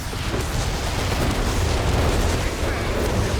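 Artillery barrage explosions in Company of Heroes 3, a dense, continuous roar of booms and blasts rolling on without a break.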